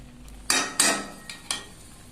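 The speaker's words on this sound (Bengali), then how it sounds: "এবার ঢাকনাটা খুলে দেবো।" A metal pot lid clanks off a pot of cooking cauliflower and potato curry, making a few sharp clinks and scrapes close by, two strong knocks followed by lighter taps, with no talk.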